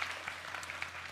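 A church youth congregation claps together during a worship service. The brief burst is soft and distant, with a steady electrical hum underneath.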